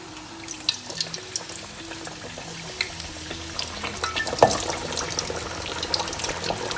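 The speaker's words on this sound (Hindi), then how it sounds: "चलें अब इसको फ्राई करते हैं हम।" Fish coated in gram flour batter deep-fries in oil at about 180 degrees in a deep-bottomed kadai, making a moderate, steady bubbling sizzle with scattered pops and one sharp clink midway.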